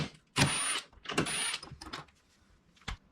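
A 17mm socket on a ratchet works loose the factory seat belt bolt on a Yamaha YXZ side-by-side, giving a few short bursts of ratcheting and metallic clicks, close by and fairly quiet, with pauses between.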